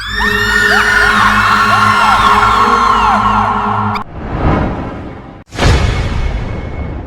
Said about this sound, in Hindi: छाया एक चीख के साथ गायब हो गई